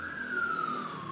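A vehicle siren wails in a single gliding tone that slowly falls in pitch, fairly faint and distant.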